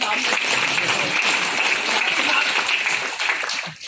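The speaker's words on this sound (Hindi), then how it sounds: "भाइयों ताली तो बजा दो" Loud, close applause from a crowd of staff at a Constitution Day gathering in the Madhya Pradesh ministry building in Bhopal, a steady burst of clapping that fades at the end.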